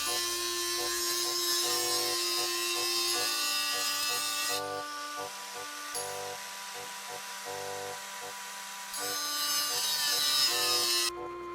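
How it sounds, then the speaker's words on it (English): A hand saw cuts the rough shape of a replica of Galileo's pocket calculator, rasping in steady back-and-forth strokes alongside droning background music, with no talking. "Here I am building, cutting the rough shape."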